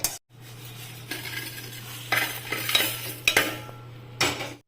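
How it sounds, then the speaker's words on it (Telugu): Dry red chillies, curry leaves and cumin seeds roasting in a pan, with scraping and stirring clatters of a utensil against the pan over a steady low hum, several sharper knocks standing out. "ఈరోజు ఎండుమిరపకాయలు, కరివేపాకు, జీలకర్ర బాగా వేపుకోవాలండి."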